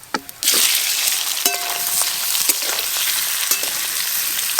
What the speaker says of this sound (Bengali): প্রথমে আমি হিং দেব। হিং, গোটা জিরে, গোটা ধনে, সেদ্ধ করে কেটে রাখা আলু দিয়ে দেব।